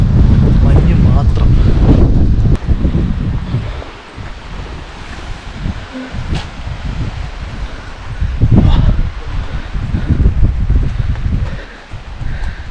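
Strong, cold wind at Munnar Top Station roars in loud, steady gusts, buffeting the microphone, easing in the middle before surging again, with a voice talking now and then.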